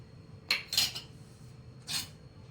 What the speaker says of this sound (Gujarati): આ બધું આપણે મિક્સ કરી દઈશું.